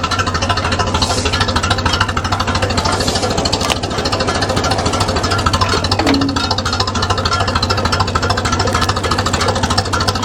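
An old Ferguson T20 tractor engine runs after its first start in ten months, a loud, close, rapid knocking chug that stays steady for about ten seconds, with no talking.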